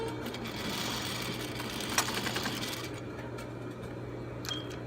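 Sewing machine stitching underwear fabric and struggling with the material, a steady mechanical whir with a constant low hum running through the whole stretch and a sharp click near the middle.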